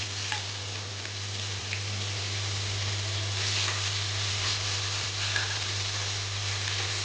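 Onions frying in a pan with whole spices for a Bengali yogurt fish curry, giving a continuous dense sizzle close up with a low steady hum beneath and no talking.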